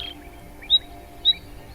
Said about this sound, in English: Listen to a bird song.